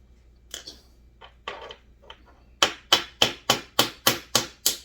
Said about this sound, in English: I'm just pulling the carburetor apart.